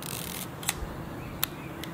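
The shutter release of a vintage Mamiya Magazine 35 rangefinder film camera fires, giving two crisp, faint mechanical clicks about a second apart in a quiet room.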